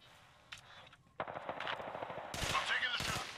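Rapid automatic gunfire rings out in a video game, first a short burst and then sustained loud volleys of shots that build toward the end.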